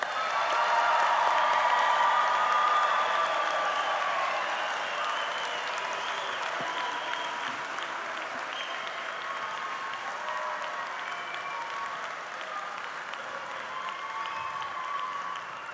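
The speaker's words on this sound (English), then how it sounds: "Can we give them one more round of applause?" Audience applauding graduates at a technical college graduation ceremony, a long, dense roar of clapping that peaks early and then settles into a steady, slightly softer wash, filling the hall.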